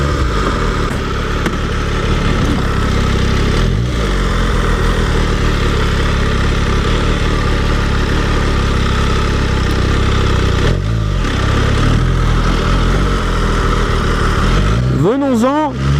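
A MV Agusta F3 motorcycle engine runs loud and close, a steady thick engine roar held throughout, with brief pitch sweeps near the end as it revs.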